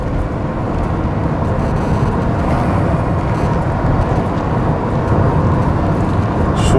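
A Toyota Camry's engine pulls steadily as the car accelerates on a test drive, a continuous loud broadband roar mixed with road and tyre noise, heard from inside the cabin without letup.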